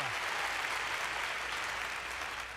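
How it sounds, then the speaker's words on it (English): A brief, steady wash of audience applause, fairly faint and even, holding without a break over a couple of seconds and tapering very slightly at the end. "All that applause is for you, Camille, or whatever the hell your name is."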